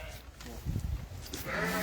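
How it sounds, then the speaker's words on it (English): Sheep bleat around a feeder at feeding time on a farm, several overlapping calls amid shuffling and rustling, with people talking nearby. "while Alex does that, the sheep are going to try and get him"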